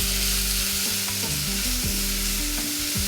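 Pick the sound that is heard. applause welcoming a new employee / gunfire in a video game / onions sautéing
onions sautéing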